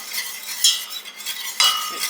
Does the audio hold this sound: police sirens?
no